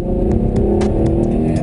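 The 3.8 engine of a 2014 Hyundai Genesis Coupe R-Spec revs loud and close with a gutsy, steady drone and faint rhythmic pulses through the short burst.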